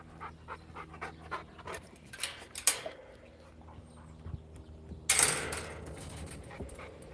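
Rhythmic, quick panting from dogs close by, with a few scuffs and a sudden louder rustling burst partway through.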